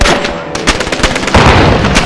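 Rapid gunfire from a war film scene, sharp repeated bursts of shots close and loud with little pause between them.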